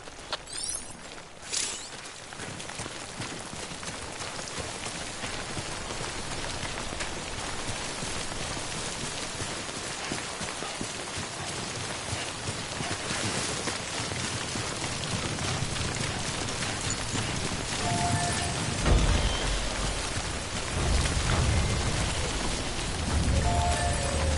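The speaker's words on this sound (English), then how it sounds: "prolonged exposure to timefall damages cargo containers. Don't stay out in the rain any longer than you have to." Timefall rain in the video game Death Stranding, a steady hiss of rainfall pattering on surfaces that continues throughout, with soft background tones and a faint musical swell near the end, no talk.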